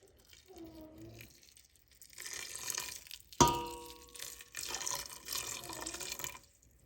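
Water splashes and trickles into a pot holding about three cups of elderberries for syrup, with a sharp clink of glass partway through, close and moderately quiet.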